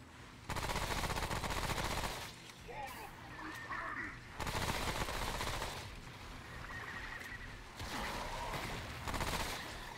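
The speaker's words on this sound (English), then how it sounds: "So this submachine gun is Probably always going to be the reigning king for me" Rapid bursts of submachine gun fire in the game Remnant: From The Ashes, loud and close, coming in several long volleys with short pauses, and quieter game sounds and a voice between them.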